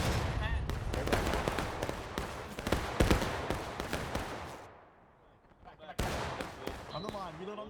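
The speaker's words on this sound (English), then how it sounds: "Putting in a volley" Musket volleys in the Civil War game War of Rights sound as rolling, overlapping gunfire, dense at first, then fading into a brief lull before a fresh crackle of shots, with voices talking over the battle.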